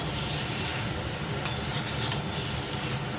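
Banana flower and shrimp stirring in a pan, with a steady low sizzle, a faint continuous hiss and two short scraping stirs of a utensil against the pan.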